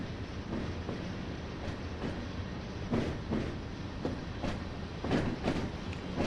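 A Class 90 electric locomotive hauling freight in the Train Simulator game, a steady rumbling drone with rhythmic clickety-clack of wheels over rail joints, running continuously with no talk.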